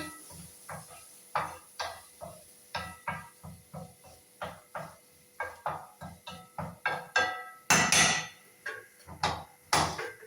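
Potato, onion and ground coconut paste being stirred in a pan, heard as a steady run of sharp, evenly spaced utensil knocks and scrapes against the metal, close up with a faint sizzle underneath.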